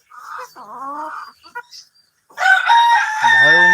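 A year-old hill rooster on a farm crows loudly and close in broken, rising calls, with clucking between and a second crow near the end.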